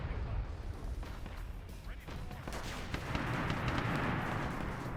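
An artillery barrage in an Arma Zeus mission: a dense, continuous rumble of blasts and gunfire that swells louder in the second half, with a voice speaking underneath.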